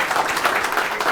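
Audience applause at an open mic night, a short, close burst of many hands clapping in a dense, even patter.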